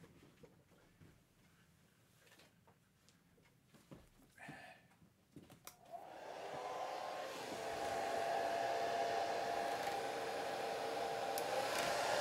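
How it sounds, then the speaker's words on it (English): A hair dryer starts up and blows steadily over a watercolor landscape painting, drying a section before it is painted over; a continuous loud whooshing airflow that swells and holds after a few seconds of quiet handling. "So let me get my hair dryer."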